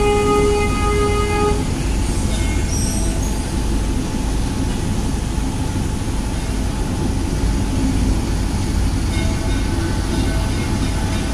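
Sato-sato tourist train at Ancol pulling into Dufan station, a steady loud rolling rumble with a short horn toot near the start and faint tonal whine, continuous throughout.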